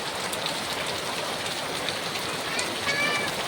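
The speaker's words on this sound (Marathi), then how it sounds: "याला परतीचा पाऊस म्हणतात मित्रांनो" Late-season monsoon rain pours down steadily outdoors, a dense, even hiss of drops on surfaces throughout, close and fairly loud.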